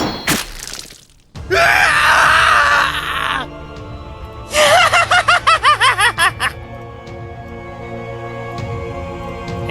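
A man screams as he is killed in an otome video game. A loud, strained cry is followed by a high, screeching laugh in short rhythmic bursts, with no speech.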